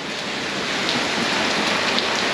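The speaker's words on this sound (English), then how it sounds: "Yep, the rainy season has begun." Rain at the start of the rainy season pours steadily in a backyard, a loud, even hiss of drops on surfaces with no pauses and no voices.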